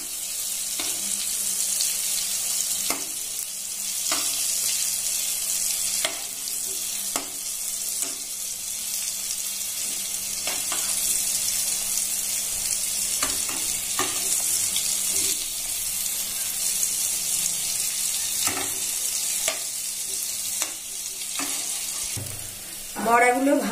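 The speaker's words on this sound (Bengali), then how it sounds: "বড়াগুলো ভাজা হয়ে গেছে" Elephant foot yam fritters fry in oil in a pan, a steady bubbling sizzle broken by periodic clicks and scrapes of a spatula turning them, with a short voice near the end.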